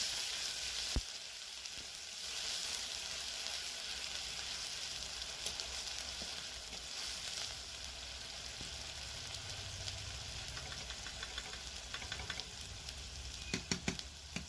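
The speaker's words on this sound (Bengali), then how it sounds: "এবারে ওই তেলের মধ্যে আমি আরও কিছুটা তেল দিয়ে দিলাম। প্রথমে দিয়ে দিচ্ছি পেঁয়াজ বাটা।" Onion paste sizzles steadily in hot oil in a pan for a light rui fish curry, a quiet, continuous hiss with occasional small crackles and faint stirring clinks, with no one speaking.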